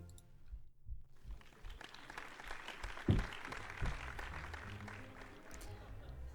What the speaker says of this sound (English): delicate applause fills the ballroom